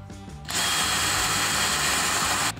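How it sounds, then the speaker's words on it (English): A power drill spins a 1.5 inch hole saw down through a floor, a loud sustained whine that starts abruptly after a brief quieter moment and runs steadily until it cuts off at the end. "The next step for me is to cut a hole from the top to the bottom, and it's gonna go through the floor."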